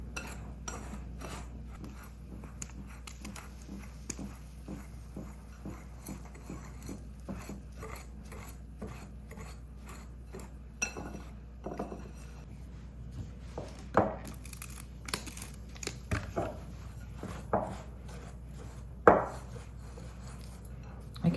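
A powdery bath bomb mixture is stirred in a bowl, making a steady gritty scraping and rubbing with light clinks of the utensil, which grow a little sharper and louder toward the end.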